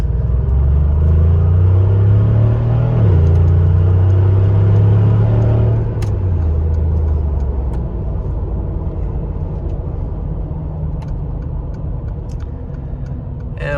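A Mercedes G550 G-Wagon cruising on a highway, a loud, close cabin rumble as the engine climbs and drops through gear shifts before settling into a steadier drone.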